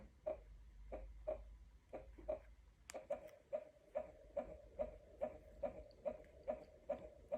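A soft, steady heartbeat-like thump from a baby crib mobile repeats in a slow, even pulse, faint and muffled, with a brief click partway through.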